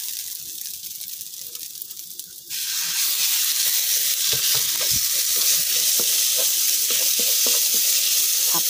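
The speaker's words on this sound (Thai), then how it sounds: "พอหอมแดงของเราเริ่มมีกลิ่นหอมนะคะต่อไปเราก็จะใส่หมูสับลงไปค่ะ" Minced pork goes into a pan of fragrant shallots for a sago dumpling filling, the hiss suddenly jumping to a loud, dense sizzle, with repeated spatula clicks and scrapes as it is stir-fried.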